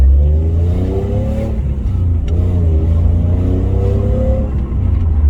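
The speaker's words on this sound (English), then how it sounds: "Nice and smooth rev range." An Alfa Romeo GTV's warm engine revving smoothly up and down through its range, loud and close, with rising and falling pitch sweeps.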